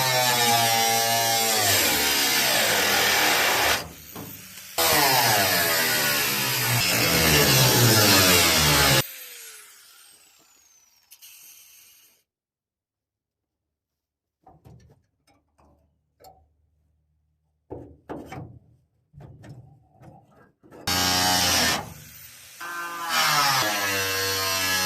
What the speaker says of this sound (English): I still got to grind out these holes